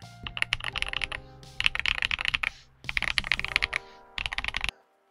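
Quick, clacky keystrokes on a stock Xinmeng M87 Pro mechanical keyboard with Gateron switches and DSA PBT keycaps, typed in four close bursts with short pauses between them.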